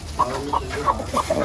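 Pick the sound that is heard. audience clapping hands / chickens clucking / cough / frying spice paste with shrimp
chickens clucking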